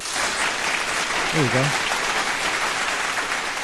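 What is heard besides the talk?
audience applause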